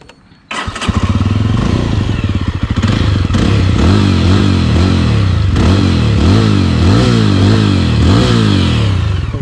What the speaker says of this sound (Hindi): तो मैं भाई आपको इसका एग्जॉस्ट नोट सुना देता हूँ।